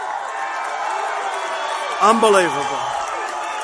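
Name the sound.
rally crowd cheering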